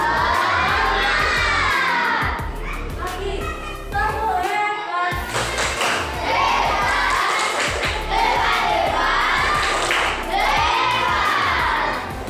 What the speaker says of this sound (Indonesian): Guru mengondisikan siswa dalam pembelajaran melalui tepuk semangat dan tepuk hebat